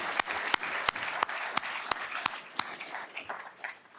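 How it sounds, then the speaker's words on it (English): Applause from a small conference audience, sparse and uneven, with loud individual claps standing out sharply and fading toward the end. "Let's give them a round of applause."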